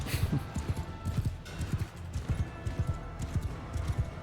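Horse galloping in the video game Mount & Blade II Bannerlord, with rapid irregular hoofbeats thudding over a background of battle ambience, fairly close and continuous without speech.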